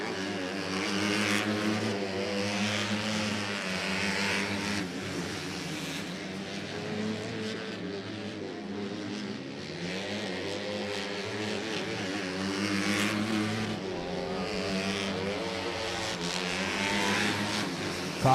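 Race cars roar around the track at Exit 7 Motorsports Park during weekly racing, a loud, continuous engine drone that swells and fades as cars pass, heard from a distance.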